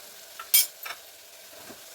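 A spoon scrapes through a brinjal and tomato curry seasoned with coriander, dry coconut and sesame powders in a pan, a few brief stirring scrapes over a low sizzle, close and fairly quiet.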